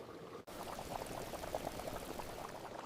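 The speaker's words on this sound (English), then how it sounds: "we remove the couscous steamer and add the firm vegetables, carrots, turnips, cabbage, and both types of squash to the broth" Firm vegetables (carrots, turnips, cabbage and two kinds of squash) go into a simmering couscous broth for Moroccan couscous. A brief break is followed by steady liquid bubbling and pouring sounds, close up and continuous.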